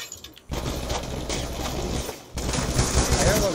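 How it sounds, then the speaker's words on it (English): Video game gunfire in a party mode match, rapid bursts of automatic weapon fire in sustained dense volleys, close and loud, with a short pause between two long stretches of shooting. "I heard a lot of gunshots."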